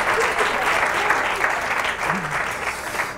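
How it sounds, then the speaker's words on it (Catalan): Studio audience at a Catalan TV quiz show clapping: dense, steady applause from many hands lasting the whole stretch, with a faint voice briefly audible underneath. "Aplaudiment! Vinga!"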